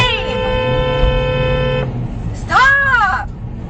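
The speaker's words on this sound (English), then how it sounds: "Stop honking him, you're causing trouble, honey." A car horn honks loud and close: one long steady blast, then a shorter wavering toot after a brief pause, over a rumble of road noise.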